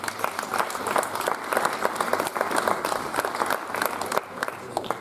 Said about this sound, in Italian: Quest'anno ospite d'onore Peppa Truddaiu, gli chiedo un applauso